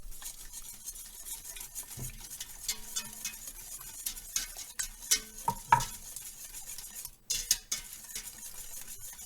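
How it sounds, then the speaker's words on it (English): Whisk stirring chocolate chip cookie dough made with butter and dark brown sugar in a bowl, a soft continuous scraping with scattered clinks against the bowl, close and fairly quiet, no talking. "And then I'm going to stir it well with the whisk."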